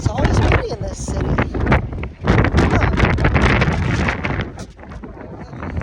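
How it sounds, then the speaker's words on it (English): Strong wind blows outdoors in a city, a loud, continuous buffeting roar hitting the microphone with gusty swells throughout, with no clear talk over it. "I told you, it's always windy in this city."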